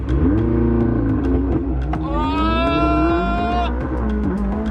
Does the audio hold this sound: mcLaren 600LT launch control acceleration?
yes